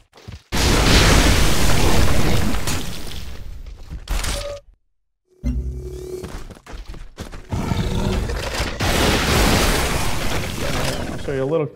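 Harmony faction weapons from the strategy game Civilization: Beyond Earth, wet, gaseous, acidic attacks built on a planetary miasma, fire as loud booming bursts and rumbles, break into a brief silence, then resume in dense, continuous waves.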